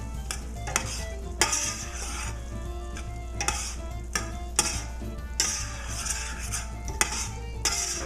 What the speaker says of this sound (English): I'm gonna go in with half a stick of butter and just let it melt